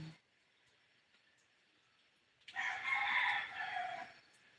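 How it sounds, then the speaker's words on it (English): A rooster crows once, fairly near and clear, in early morning quiet. A brief voice is heard at the very start. "Sound like the chicken to me."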